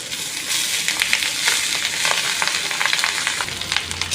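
Rice frying and being stirred in a pan for fried rice, with a dense sizzle and repeated scraping strokes of a utensil, close and steady, no talk.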